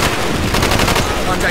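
Dense automatic gunfire rattles continuously in the video game Call of Duty Black Ops, loud and close, a rapid machine-gun burst lasting the whole moment.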